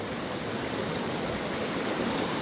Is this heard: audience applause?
no